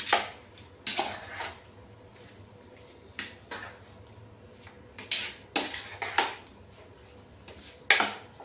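Prawns being mixed with a homemade spice masala in a metal dish, with scattered clinks and scrapes of a spoon against the vessel, quiet and sparse, with pauses between strokes.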